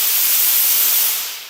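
A One S1ster steam iron pressing quilt pieces gives a loud, close, steady hiss of steam that fades out at the end.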